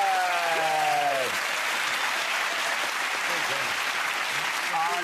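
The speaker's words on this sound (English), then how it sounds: "Give a round of applause to Tom Allen." A TV comedy panel show studio audience applauds steadily for several seconds, a dense wash of clapping, while a presenter's voice speaks over the start and end.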